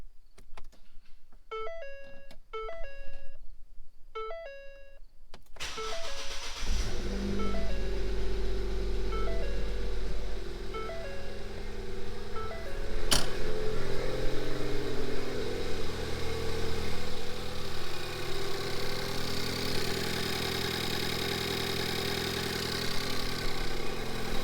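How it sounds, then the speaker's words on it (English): Ford Fiesta ST engine, freshly rebuilt after a wreck, cranks over with a few chimes and catches at once, then settles into a steady, loud idle that holds close by until the end. "there's no reason why I can't do a proper startup of this motor now"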